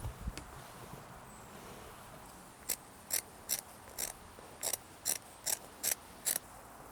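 Scissors cutting strips from a piece of cloth for wrapping the grip of a Bloodborne Saw Cleaver replica. A faint run of about nine evenly spaced snips comes in the second half over a low, steady background hum.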